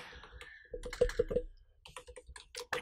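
Crisp keystrokes on a computer keyboard while entering a keyboard layout preset name in Adobe Premiere Pro 2021, a quick run of close clicks followed by scattered lighter taps, with no talking.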